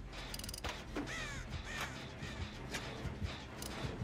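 Crow-like cawing calls come from a bird in the horror game Dead by Daylight, several harsh repeated caws over busy mechanical game ambience and clicking noises.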